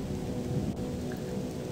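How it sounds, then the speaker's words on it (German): Steady rain with a low thunder rumble in a video game, a continuous dense wash of drops and rolling low boom throughout, no voices. "Es regnet."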